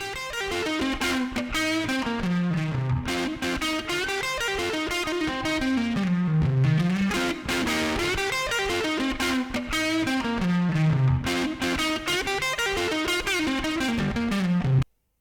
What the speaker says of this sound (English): So I'm trying to get that push power amp distortion.